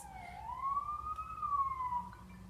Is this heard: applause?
no